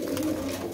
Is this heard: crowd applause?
no